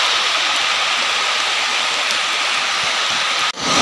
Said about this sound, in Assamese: এতিয়া বৰষুণ দিছে বোলে